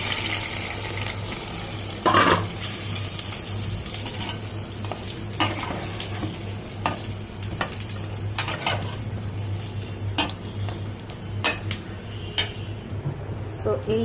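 Fried onions are stirred into Chittagong-style mezbani beef curry in a pan: a spoon scrapes and clinks against the metal at irregular intervals over a low, continuous oily sizzle.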